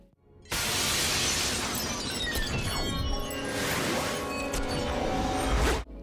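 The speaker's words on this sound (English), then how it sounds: "I heard a cinematic sound similar to that of glass falling in slow motion" A bag of crochet hooks shaken and processed into a slow-motion, cinematic glass-falling effect: a dense, continuous shimmering shatter with swirling tinkles, loud and sustained for about five seconds before cutting off.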